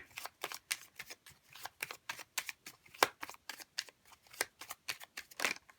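Tarot cards shuffled in a steady run of crisp riffles and slaps, close and fairly quiet, continuing without any voices.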